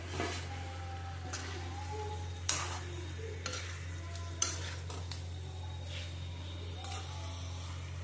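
Chopped tomatoes and green chilies fry in a pan while a utensil scrapes and clinks as it stirs them, with intermittent knocks over a steady low hum.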